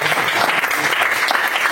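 A seminar audience at a DXN company presentation claps briefly. The applause is steady and moderately loud, a dense patter with no break and no speech.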